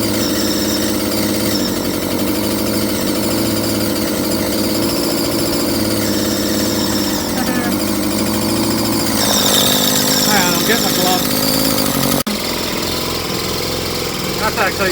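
A small whipper snipper motor drives a homemade two-coil generator, running loud and steady with buzzing, rattling vibration and squealing overtones, while a voice talks over it.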